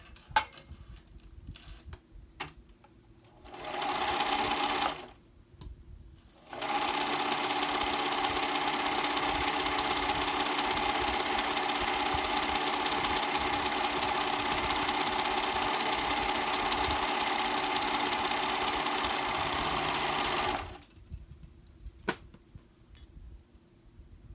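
A sewing machine stitches a reversible dress in two runs: a short burst of even mechanical whirring, a brief pause, then a long steady stretch that stops abruptly, with faint handling clicks around it.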